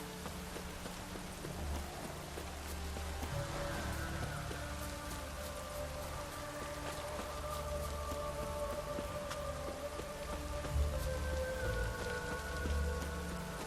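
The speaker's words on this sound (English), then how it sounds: "No use doing any work in this rain." Steady rain falls on surfaces, a constant dense patter with scattered heavier drops and a low rumbling undertone, continuous and unbroken with no voices.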